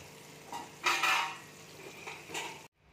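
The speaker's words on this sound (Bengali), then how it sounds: "এবার আমি তেলের মধ্যে এক এক করে দিয়ে দিচ্ছি" Chicken popcorn pieces drop one at a time into hot oil, each landing with a burst of sizzling and spattering. A short scrape of utensil against pan sounds between them, then the sound cuts off abruptly.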